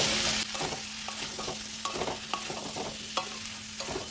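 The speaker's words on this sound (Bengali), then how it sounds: "সব কিছুকে তেলের সাথে ভালোভাবে কষিয়ে নিব" Ground spices, including coriander, cumin and black pepper, frying in oil for pumpkin chokka, with a steady close sizzle and repeated scraping stir strokes of a spatula in the pan, no voices.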